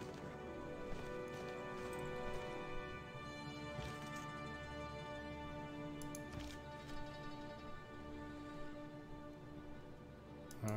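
Horse units charge into an attack in Civilization VI, their soft, quick hoof clip-clops faint beneath steady background music.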